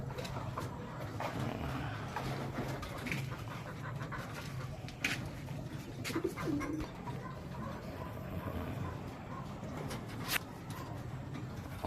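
Racing pigeons in a loft making soft cooing calls amid a busy, noisy outdoor background with scattered clicks and rustling, fairly distant and low in level.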